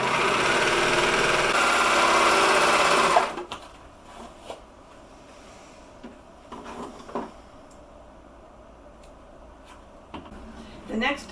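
Serger stitching a rolled hem on fabric napkins, a loud, steady mechanical whir for about three seconds that stops abruptly, followed by a few quiet handling knocks.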